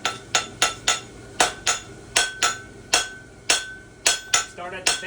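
A hammer rings against a horseshoe on an anvil while a horseshoe clip is forged, about fourteen sharp metallic strikes in uneven rhythm with short pauses between groups, close and loud.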